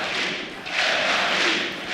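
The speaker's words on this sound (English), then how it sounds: "The home crowd cheering for the Ninjas in Pyjamas" A home crowd at an ESL One Katowice Counter-Strike grand final cheering for Ninjas in Pyjamas, a broad roaring swell of arena voices that dips briefly and rises again.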